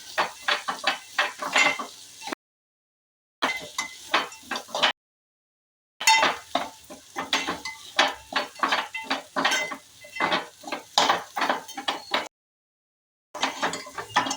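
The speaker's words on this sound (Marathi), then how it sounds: "तिखट जरा परतून घ्या आता।" Chili powder is stirred and sautéed in a pan for a traditional Kolhapuri sandge amti: repeated close scraping and clinking of a spoon against the pan in quick irregular strokes, broken by short gaps, with a faint sizzle beneath.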